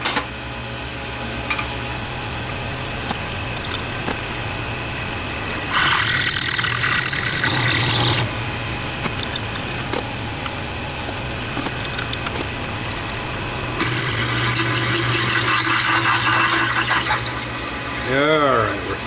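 A drill whines steadily against a constant mechanical hum, rising louder in two long bursts as it drills through metal.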